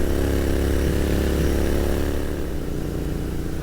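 Royal Enfield Continental GT motorcycle at steady cruising speed on a road, its single-cylinder engine droning continuously with a deep, even thrum under heavy wind rush, loud and close throughout.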